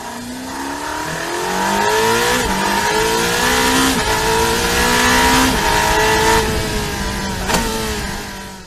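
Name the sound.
Ferrari 849 Testarossa twin-turbo V8 engine revving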